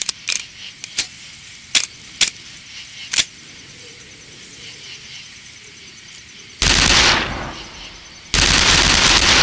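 Rifle fire in the video game Darkest of Days, set at the Battle of Little Bighorn, several sharp separate shots spaced over the first few seconds, followed by two long loud bursts of noise.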